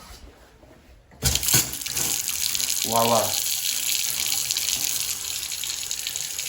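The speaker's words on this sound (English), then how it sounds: "let me open up the hot water" Hot water starts running from a household tap just after a Bosch Greenstar combi boiler installation, beginning with a sudden gush and settling into a steady close hiss of flowing water. Someone speaks briefly over the start.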